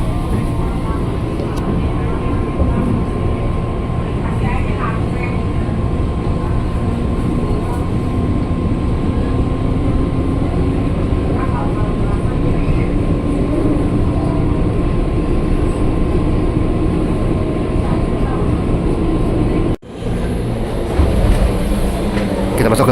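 A KRL commuter train runs on Jakarta's elevated line, recorded from inside the car. A loud, steady rumble of wheels and motors carries throughout. A voice talks over it, and a brief jolt near the end precedes continued rolling.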